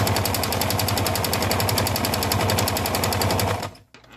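A sewing machine stitches fringe on a skirt in a fast, steady mechanical rattle, loud and close, running continuously before stopping abruptly near the end.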